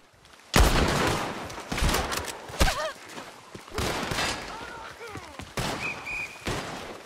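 A police shootout in Red Dead Redemption 2 bursts with repeated loud gunshots, single cracks and quick clusters spread irregularly across the span, with game voices and other effects mixed between the shots.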